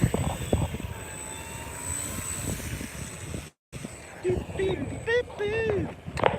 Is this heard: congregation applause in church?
no